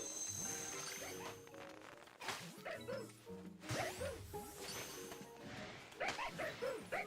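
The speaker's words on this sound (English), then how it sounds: "Being assaulted by dogs again." Dog-like Pokemon in Pokemon Legends letting out repeated yips and barks, mixed with game whooshes, impact crashes and a musical soundtrack, busy and layered throughout.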